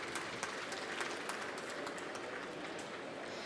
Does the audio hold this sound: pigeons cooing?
no